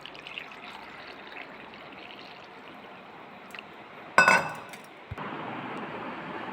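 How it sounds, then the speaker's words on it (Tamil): Hibiscus tea is strained and poured into a glass: a quiet liquid trickle, then a sharp clink of glass, followed by a steadier, brighter pour running to the end. "வடிகட்டிக்கோங்க. அப்புறம் கிளாஸில் ஊற்றிக்கோங்க."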